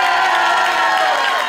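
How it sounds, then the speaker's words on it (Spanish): A crowd on a comedy variety show cheers and claps loudly all at once, with shouts and whoops blended into a bright, continuous wash of sound. "Aplauso bonito para Carlitos, cosa especiosa!"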